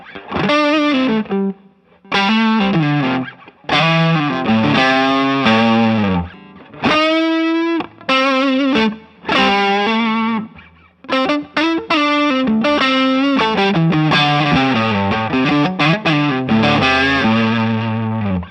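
Electric guitar played through an Ibanez TS808 Tube Screamer overdrive with gain turned high, a thick, fat distorted tone in sustained chords and melodic runs, loud and continuous with brief pauses between phrases.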